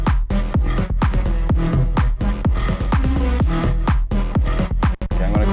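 A buzzy sawtooth synth bass plays a busy rhythmic line of short plucked notes with sliding pitch, loud and up front.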